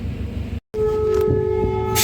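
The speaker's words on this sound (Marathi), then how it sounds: "बघू शकता मित्रांनो महाराष्ट्र एक्सप्रेस आता डिपार्चर झालेलं आहे जयसिंगपूर रेल्वे स्टेशनवरून" Maharashtra Express pulling out of Jaysingpur railway station in India, a steady rumble with a sustained horn-like tone, loud and close, broken by one brief dropout near the start.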